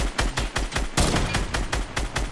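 Rapid automatic gunfire in a shooter video game, a loud string of closely spaced shots in a steady burst with no pause.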